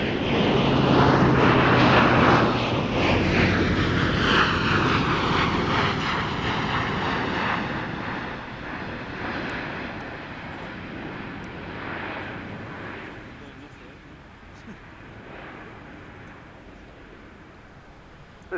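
An Airbus military transport aircraft flies past overhead, its engine roar loud at first, then fading gradually into the distance.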